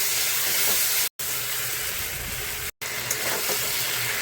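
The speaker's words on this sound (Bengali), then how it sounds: "এখন এই মশলাটা দিয়ে ভালো করে ভেজে নেব।" A spice paste of ground coriander and cumin fries in a pan, giving a steady close hiss and sizzle broken by two brief silent cuts.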